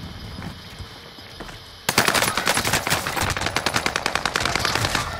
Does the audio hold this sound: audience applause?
no